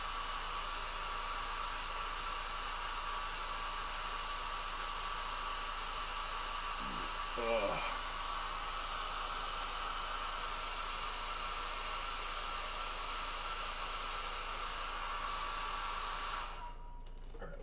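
A hair dryer blowing on freshly painted miniature figure paint, a loud, steady whooshing whir held nearly unchanged for about sixteen seconds before cutting off, with a short rising squeak partway through.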